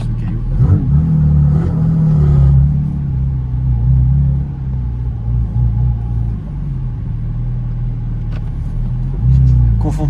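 Porsche GT4 RS Dakar engine rumbling and revving as the car drives and accelerates, loud and close, with a deep steady drone swelling at the start and again near the end, people talking over it.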